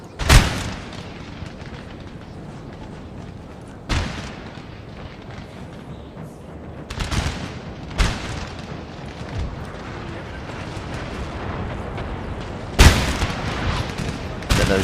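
Artillery fire in the game Napoleon Total War, with heavy cannon booms landing at irregular intervals over a rumbling battlefield din; several sharp, loud blasts stand out against the constant background noise.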